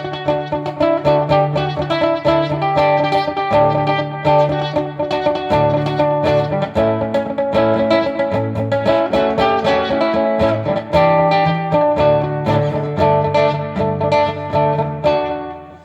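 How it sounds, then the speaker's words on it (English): A distorted, overdriven Fender Smolder nylon-string acoustic guitar plays a continuous run of notes and chords, loud and sustained throughout with no voices. "it still sounds like a nylon string like on the high string, but you still can get like a nice distortion sound"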